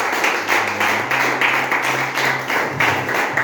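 A church congregation claps in unison, a dense steady rhythmic clapping that fills the room, close and loud, with a faint low hum beneath.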